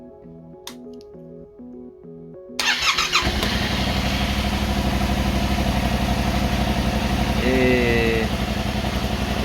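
Yamaha Tracer 7 motorcycle (2023) engine running at idle, a steady close low rumble that starts abruptly after a quiet opening with some clicks and a brief voice, then holds evenly to the end.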